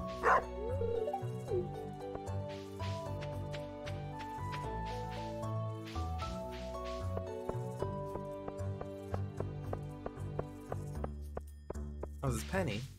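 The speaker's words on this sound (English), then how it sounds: "Talk to the dog." Dog barks and yips in the Stardew Valley Expanded video game, repeated in short bursts over continuous melodic game music.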